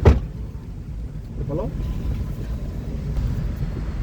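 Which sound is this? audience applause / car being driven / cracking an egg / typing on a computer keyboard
car being driven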